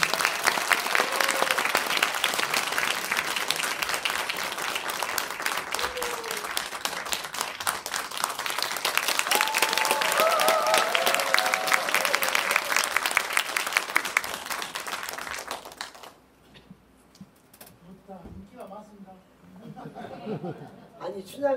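Audience applause at a Korean pansori performance of the farewell scene from Chunhyangga, a dense sustained clapping crowd with some chatter, fading out near the end as a voice begins.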